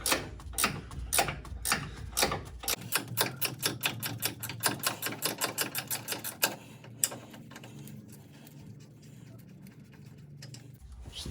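A ratchet wrench clicks rapidly and close up as it loosens a nut on a Chevy S10 idler arm, first in short bursts and then in a longer run. A softer mechanical hum follows.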